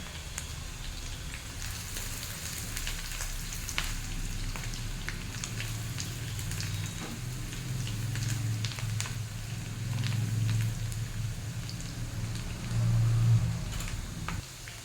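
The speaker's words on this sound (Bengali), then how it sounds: "পেঁয়াজটাকে হালকা 2-1 বার নেড়ে নেব। তারপর এর মধ্যে দিয়ে দেবো কাঁচা লঙ্কা 2টো।" Chopped onion and two slit green chilies sizzle in hot oil in a pan for an egg curry, a close, steady crackling hiss that runs unbroken for the whole stretch with small pops scattered through it.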